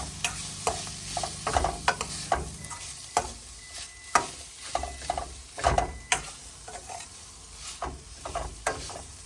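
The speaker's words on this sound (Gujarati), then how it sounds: "તો હવે આપણે પનીરને સરસ રીતે સ્પિનચ સાથે મિક્સ કરીશું." Grated paneer is stirred into softened spinach in a pan, with a steady run of scraping, clacking spoon strokes and a soft sizzle underneath, close and moderately loud.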